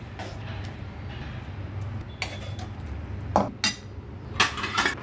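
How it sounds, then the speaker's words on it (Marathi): Chickpea curry being scooped out and transferred into a steel kadhai, giving scattered metallic clinks and scrapes of spoon against steel, a few louder knocks near the end, over a low steady kitchen hum. "हे छोले आपण आता काढून घेऊया इथे आपण हे स्टीलच्या कढईमध्ये काढून घेतोय"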